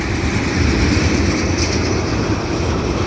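Union Pacific manifest freight train rolling past close by on a rainy day, a loud continuous low rumble of wheels and cars with a steady clatter underneath, no pauses.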